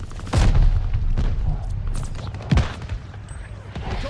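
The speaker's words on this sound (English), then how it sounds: "Incoming grenade." Grenade blast during a Call of Duty Vanguard match, a deep boom followed by further thuds and scattered gunfire in a noisy, busy battle mix.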